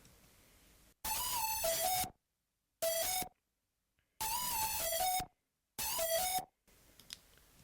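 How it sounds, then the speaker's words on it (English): An ear-piercing, harsh synth lead in a beat made in FL Studio, playing short bright bursts in a stop-start pattern with silent gaps between phrases, loud and alone. "this is definitely one of those more just annoying kind of like ear-piercing leads"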